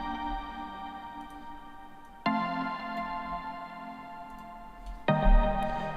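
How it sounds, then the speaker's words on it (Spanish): A synthwave pluck synth from Hive 2 follows the chords, repeating short bright notes over a sustained bed, with fresh chord hits landing twice at moderate loudness, with no voices. "En mi caso es un plug que simplemente sigue los acordes y suena así."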